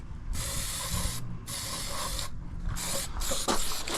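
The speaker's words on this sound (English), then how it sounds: "Some more spray cans." A spray paint can hisses in several bursts of about a second each with short gaps, loud and close, used to repaint a service truck bed.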